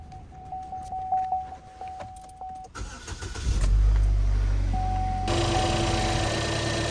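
A car engine cranks and catches, then settles into a loud steady run after a few seconds of quieter beeping and clicks, after the fuel system is depressurized.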